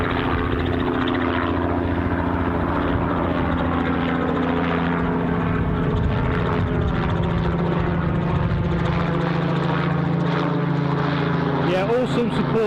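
A helicopter at Newcastle International Airport gives off a steady, loud engine and rotor drone that fills the whole stretch without a break, with faint voices beneath it.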